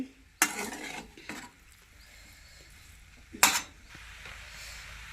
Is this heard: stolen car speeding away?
no